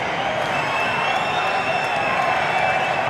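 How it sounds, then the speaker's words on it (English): Football crowd at a Watford v West Bromwich Albion Championship match whistling in the stadium, a sustained shrill whistling over a dense, steady roar of many voices. "You can hear the whistles from the crowd."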